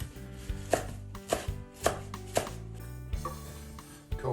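Basil being chopped small with a knife on a board for spicy pesto: a steady series of close, crisp knocks, roughly one every half second, with a brief pause before a final tap.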